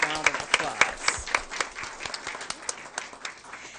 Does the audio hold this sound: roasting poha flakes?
no